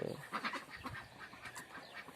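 Neighbours' ducks on a farm yard give a few quacks and calls at close range, irregular and fairly quiet amid rustling, with no talk.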